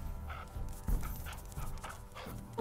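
A dog in the video game Crown Wars: The Black Prince gives a series of short, rough barking and panting sounds in quick succession, mixed with game sounds at moderate volume.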